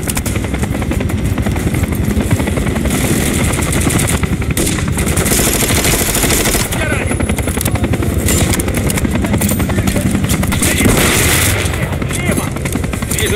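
Dense, continuous automatic gunfire and explosions in the video game Call of Duty Modern Warfare 3 form a loud, unbroken barrage of rapid shots and booms, with game voices speaking under the noise.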